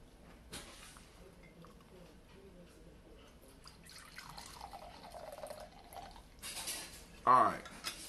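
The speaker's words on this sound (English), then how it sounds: "let's go and pour our toast" Liquid is poured into a glass for a toast, with quiet trickling and dripping that swells into a brief louder splash near the end, under soft background sound.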